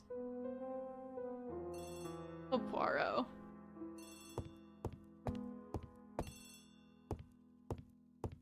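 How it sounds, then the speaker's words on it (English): A telephone rings in the video game Agatha Christie: The ABC Murders, with repeated bright ring bursts in a steady pattern. Someone speaks briefly over the first rings. "Pick up the phone, my dude."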